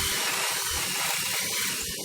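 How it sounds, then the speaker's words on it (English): A hand-held drill fitted with a 17/64 drill bit boring holes in an office chair frame, a loud, steady whirring grind heard up close and alone. "I've got a 17/64 drill bit in the drill. I'm just going to do it by hand. Drill out the holes"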